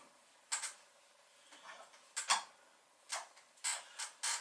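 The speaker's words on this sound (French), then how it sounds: "On peut couper dans le sens du bois." A Japanese pull saw cuts wood along the grain in short separate strokes, each a brief rasping scrape, about six of them spaced unevenly over a few seconds, close and fairly quiet against a silent background.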